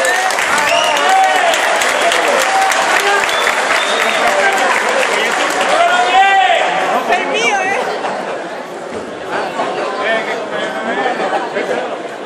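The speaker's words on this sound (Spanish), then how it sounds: "Otro aplauso para Natalia." Audience applause at a raffle draw during the Gamepolis 2013 gaming event, a dense sustained clapping with crowd chatter and a presenter talking over it, easing slightly toward the end.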